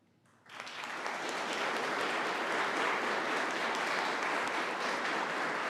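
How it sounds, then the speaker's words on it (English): After near silence, applause for members of the 106th Rescue Wing at a New York State ceremony swells within a second into a dense, even, sustained ovation from a large seated audience that holds steady to the end. "Please give one more round of applause for all of today's honorees"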